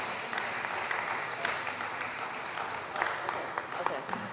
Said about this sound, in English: give the panel a round of applause and show our appreciation before they start talking